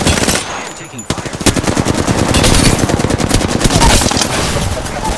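Loud, rapid automatic gunfire in a video game rattles almost without a break after a short opening burst, with close, dense shots filling the whole stretch.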